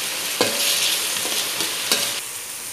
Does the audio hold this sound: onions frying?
yes